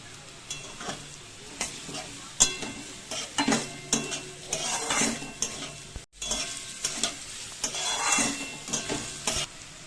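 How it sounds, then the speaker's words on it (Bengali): Carrot and beetroot frying in a pan for vegetable chop, continuous oily sizzle punctuated by repeated spatula scrapes and knocks against the pan, close and moderately loud, with a brief gap partway through. "এবার আমি গাজর দিয়ে দিচ্ছি"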